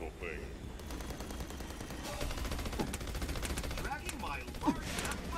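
Gunfire from a gun in the shooter game Battleborn, a steady stream of rapid shots with busy game effects beneath, staying at a moderate level throughout.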